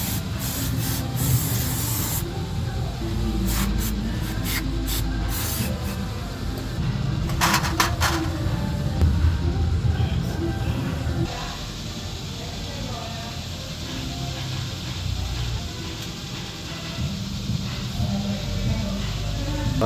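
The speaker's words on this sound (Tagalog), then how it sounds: "Mga tornilyo mga boss, ini-steel brass natin yan. I-steel brass natin para lumabas yung tunay na kulay." A steel wire brush scrubs timing belt cover screws from a Mitsubishi Adventure in repeated rough scraping strokes, loud and close, with short bursts of harsher rubbing and a background hum.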